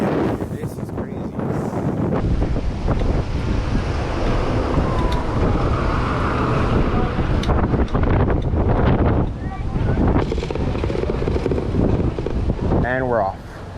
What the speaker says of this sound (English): It is absolutely windy out here.